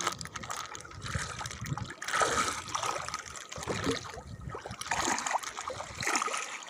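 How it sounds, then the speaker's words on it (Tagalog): Fast-flowing water current on the coast at Jomalig during night fishing, a continuous rushing and trickling wash with small splashes, fairly near and steady throughout. "kaya mabilis yung daloy ng tubig"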